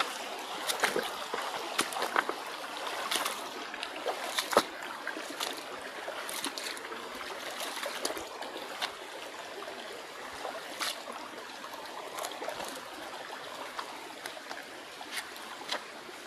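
A river rushes and trickles through a backyard garden, a continuous bright wash of flowing water with scattered splashes and clicks, fairly close and without talk.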